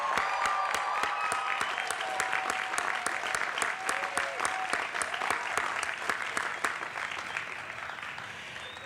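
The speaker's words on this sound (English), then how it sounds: "I ask you to join me in giving them a round of applause" At a 2016 Ithaca College commencement ceremony, a large audience applauds with sharp, rapid claps filling the space, steady and sustained, while a few faint voices murmur underneath as it slowly tapers.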